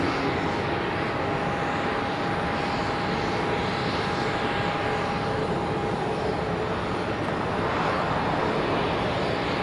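A Neos airliner at Tenerife South Airport gives a continuous broadband jet roar with a steady whining tone, loud and unbroken for nearly ten seconds, with no voices.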